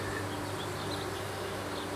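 Honey bees hum around an open hive with plastic frames covered in burr comb, a steady, close, continuous buzz with no talking.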